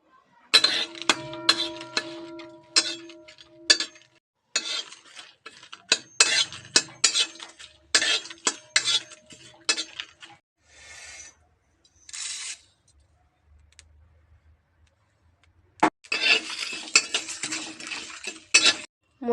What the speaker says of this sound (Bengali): এখন আমি সব মশলা একে একে ভেজে নেব।